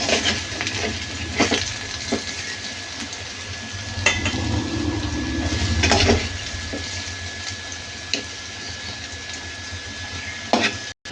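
Fried potatoes are lifted from hot oil in a pan, a continuous low sizzle broken by light scrapes and metallic taps of the utensil against the pan.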